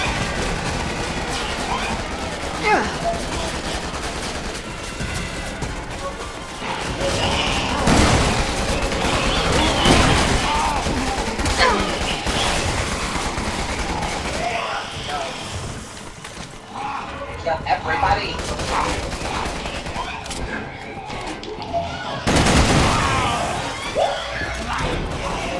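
A shotgun firing in the Resident Evil 6 video game, with loud blasts, crashes and impacts among chaotic combat noise, while players talk throughout.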